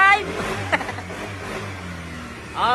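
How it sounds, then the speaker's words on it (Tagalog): A Honda Click scooter runs after a receiver replacement, its engine steady with a mid-pitched hum and a small rev. A voice talks over it nearby, and a brief high squeal comes near the end. "umaandar yung motor ni boss na kahit walang tulong ng receiver para mabuhay yung kanyang ECU"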